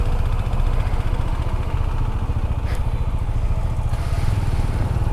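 TVS Apache RTR 200 motorcycle ridden through rush-hour traffic on an avenue near an airport, its engine a steady, close, loud drone that carries on without a break.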